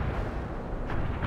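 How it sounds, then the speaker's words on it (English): Artillery barrage pounding a target area in the World in Conflict strategy game, a dense, continuous rumbling roar of blasts with no gaps, loud and sustained throughout. "We're bombarding the target area."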